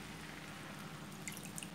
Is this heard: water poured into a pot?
yes